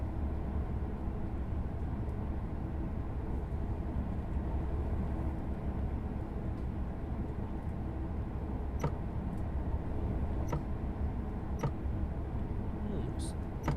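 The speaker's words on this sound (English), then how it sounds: "One more train passing to our left." A train rumbles past in Train Sim World 2 on the Munich–Augsburg main line, a steady, continuous low roar with a few faint clicks near the end and no break in the noise.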